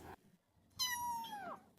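A domestic cat gives one drawn-out meow, close and clear in a quiet room, with brief background noise just before and after.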